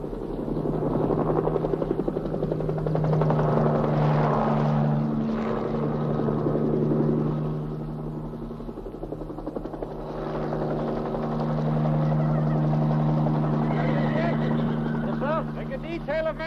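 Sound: helicopter

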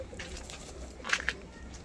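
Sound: pigeon cooing

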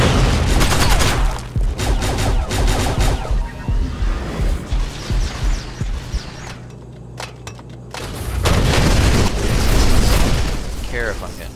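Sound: gunfire in a video game

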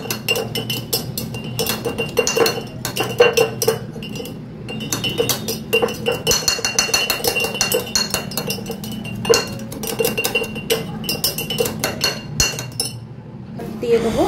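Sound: stirring lemon detox water in a glass

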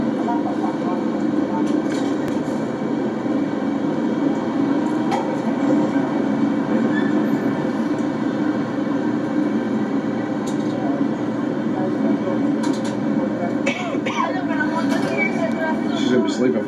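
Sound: Disney World monorail ride

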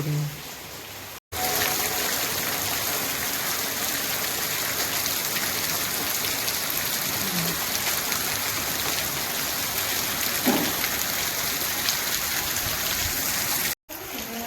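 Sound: steady rain falling

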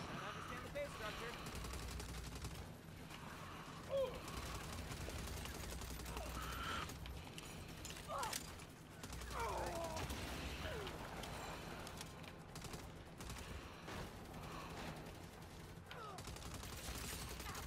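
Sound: gunfire in Saints Row video game

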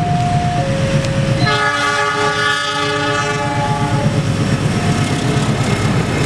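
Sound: Argo Wilis and Kamojang trains crossing at a station

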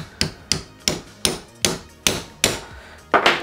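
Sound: hammer striking a piece of metal on a Stormtrooper ammo belt

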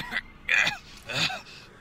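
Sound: throat clearing

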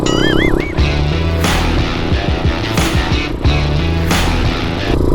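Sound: passing motorcycle with smoking exhaust

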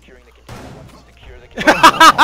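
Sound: shotgun fire in the Rainbow Six Siege video game

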